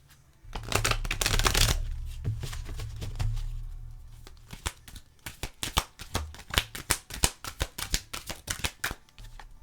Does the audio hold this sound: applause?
no